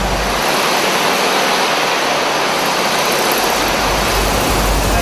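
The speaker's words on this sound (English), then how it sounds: "all the way through to full throttle now. Foot to the floor, faster, faster, full throttle" A car engine is pushed to full throttle on a rolling road dynamometer, producing a loud, steady, broadband roar that holds constant throughout.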